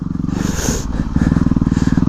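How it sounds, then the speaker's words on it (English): A dual-sport motorcycle riding through mud on leaves, engine chugging nearby at low revs, a steady throbbing putter that thickens slightly partway through. "This is my bug out motorcycle"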